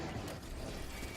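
Weapon reload in a video game: a short mechanical ratcheting clack of metal parts, close and fairly quiet, heard alone without talk.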